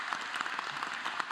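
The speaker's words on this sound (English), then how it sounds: "Let's have one last round of applause for all of the new members" An audience at an induction ceremony for new members gives a continuous wash of applause, heard at moderate level and slightly distant, with no talking over it.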